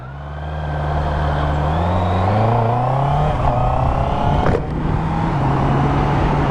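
New Honda CB650R E-Clutch naked motorcycle accelerating on the throttle: a loud, close engine whose note climbs steadily in pitch over a few seconds, then holds at a high, even drone with no voices.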